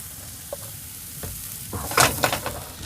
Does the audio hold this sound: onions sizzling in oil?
yes